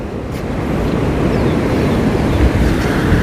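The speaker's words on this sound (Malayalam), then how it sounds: "മുല്ലപ്പെരിയാർ തുറന്നു കഴിഞ്ഞ് വെള്ളം വന്ന് കൊണ്ട് ഒഴുകിക്കൊണ്ടിരിക്കുന്ന ഒരു കാഴ്ചയാണ്" Loud, steady roar of water rushing from the opened shutters of Mullaperiyar Dam fills the whole stretch, a constant broadband surge with some wind buffeting, no voices.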